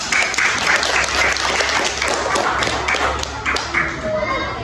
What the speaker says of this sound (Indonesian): Oke, baik, tepuk tangan dulu untuk Lintang.